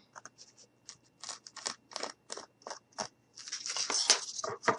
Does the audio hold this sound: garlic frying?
no